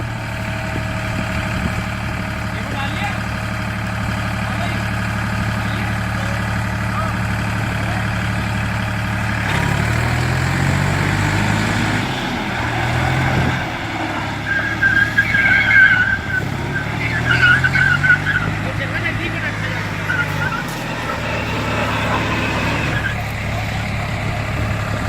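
A 4x4 vehicle's engine drones and revs in low gear while its wheels spin and skid, with the engine note rising in bursts midway and a faint voice now and then.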